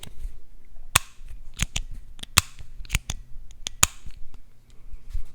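A titanium Tactile Turn Mini side-click pen clicks repeatedly close to the mic, sharp irregular snaps roughly every half second over a faint background.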